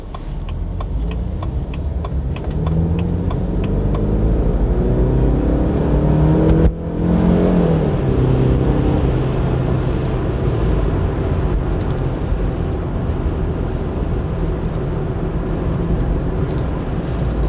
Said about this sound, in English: You can see it's going through all the gears nicely there.